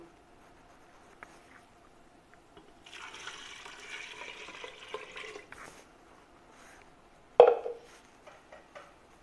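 One kilogram of water pours steadily into a pot of goat head with salt, red chili powder and turmeric for a couple of seconds at moderate volume, then stops, followed by a sharp clunk and a few faint drips.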